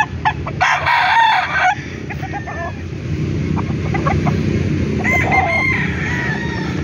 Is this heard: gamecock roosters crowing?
yes